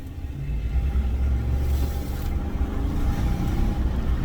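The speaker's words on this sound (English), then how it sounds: "So this is the last time this truck will be stock sounding." A stock pickup truck's engine and exhaust give a low, steady rumble while the truck drives and pulls away with the windows down. The drone is continuous and fairly loud, with no talking.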